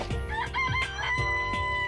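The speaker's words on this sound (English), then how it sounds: "It's a chicken." A cartoonish chicken in the video game Danganronpa crows and clucks in a short loud burst over a bed of game music, with no talking.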